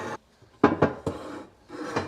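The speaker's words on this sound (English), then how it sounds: "my Nordic ware cake pans will fit right up here" Metal Nordic Ware cake pans clank and scrape as they are slid onto a high kitchen shelf, a few close, sharp knocks and rubbing sounds with short pauses between.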